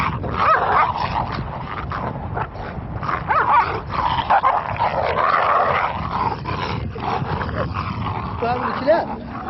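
Long-legged, muscular herding dogs in the Mauritanian desert bark, yip and whimper close by, with voices mixed among the dogs.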